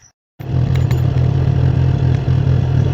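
Motorcycle engine running steadily on an unpaved dirt road between thorny acacia trees, a loud continuous low drone with faint rattles after a brief silent start.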